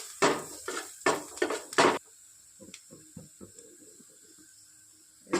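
Chopped garlic goes into melted butter in a wok while making vegetable momos. Several sharp metallic clanks of utensils open the sound, followed by soft, scattered crackling and sizzling of the frying garlic.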